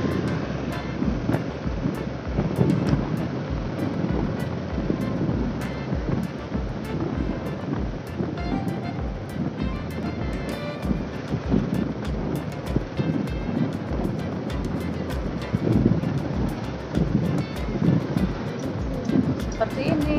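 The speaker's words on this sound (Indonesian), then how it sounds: "situasi di pantai timur" Waves washing onto the east coast beach at Pangandaran, with steady wind buffeting the microphone and a continuous, dense surf roar throughout.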